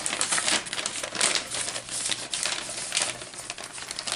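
Scissors snip down through a folded paper bag, leaving the gusset on, with crisp papery cutting and crinkling heard close up in a steady run of rustles and snips.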